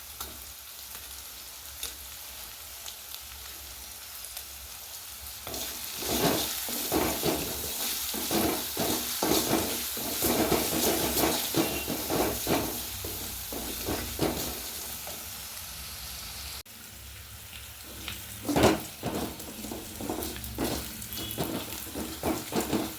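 Garlic and ginger fry in a pan for papaya pickle, a continuous sizzle broken by frequent stirring scrapes and spoon knocks against the pan, close and without talk.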